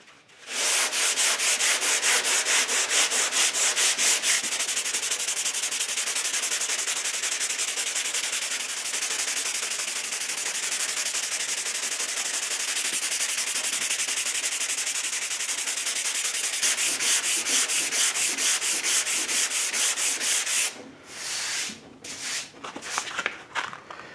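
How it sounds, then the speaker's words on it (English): Continuous hand block sanding of body filler on a car panel before repriming, a loud steady scratchy rasp of rapid strokes lasting about twenty seconds, then a few slower separate rubs at the end. "and I'm just going to block sand it out."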